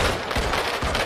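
Rapid gunfire in the mobile shooter Modern Combat 5, a dense, loud burst of repeated shots filling the whole brief moment with no talk.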